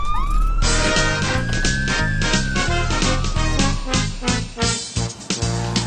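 A siren sounds loud and close as a village volunteer fire brigade unit in Ždánov is dispatched. A rising wail sweeps over a steady rhythmic pulsing that swells and fades toward the end.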